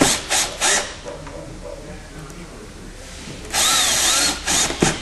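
A power drill drives pre-drilled screws into the fiberglass roof of an Airstream van to mount a solar panel, giving short whirring bursts split by pauses, close and fairly loud.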